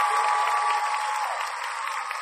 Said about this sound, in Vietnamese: Trời ơi, vỗ tay lớn hơn được không?